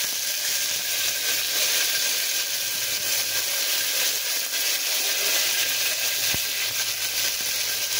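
Curry leaves sizzling in hot oil with reddened garlic for masala khichdi: a loud, steady, close hiss and crackle of frying that fills the whole stretch without pause.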